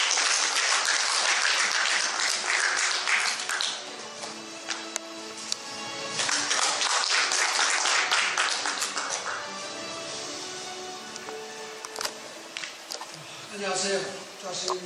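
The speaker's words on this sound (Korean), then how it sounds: "큰 박수로 맞이해 주시기 바랍니다." Sustained applause from a crowd, a broad wash of clapping that swells and dips throughout, with a voice briefly audible near the end.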